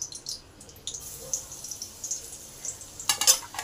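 Garlic paste frying in a pan of oil, cooked for a lentil dish, gives a soft, steady sizzle broken by light stirring clinks and scrapes, with a louder burst of scraping near the end.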